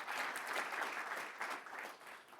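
Steady audience applause at a school district board meeting, a dense wash of many hands clapping at moderate distance, continuous and slightly fading toward the end.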